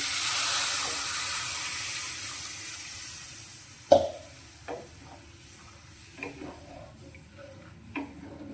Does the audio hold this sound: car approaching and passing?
no